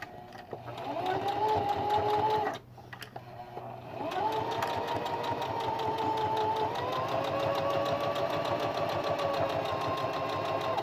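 A sewing machine stitches elastic onto the edge of a fabric mask with a narrow seam. A loud steady whir breaks off briefly, then restarts and keeps running evenly, with no talking.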